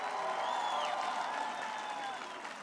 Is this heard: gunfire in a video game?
no